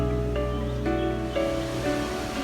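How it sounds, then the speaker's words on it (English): Steady broadband rush of Tegenungan Waterfall in Bali, heard from a side viewpoint, a continuous dense roar of falling water with no breaks and no voices. "this is the side view of Tegenungan Waterfall"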